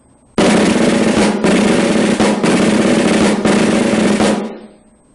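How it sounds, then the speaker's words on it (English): Snare drum playing a 13-stroke roll closed, a series of tight rapid bursts in quick succession, close and loud with nothing else around it. "Here's how the 13-stroke roll sounds played closed."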